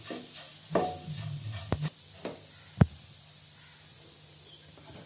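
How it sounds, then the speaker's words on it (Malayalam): Chili powder masala for a chutney being stirred in a pan: a faint low hiss with a few scattered scrapes and one sharp knock of the spoon on the pan, quiet and close. "ഇത് നന്നായി ഇളക്കി ആ പച്ചമണം മാറുന്നത് വരെ ഇളക്കണം"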